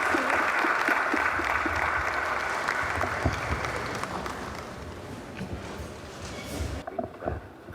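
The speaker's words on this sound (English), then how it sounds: "Round of applause, please." Guests at a bankers' dinner in the foyer of Accra International Conference Centre give a warm round of applause that starts full and gradually thins out, ending in scattered claps.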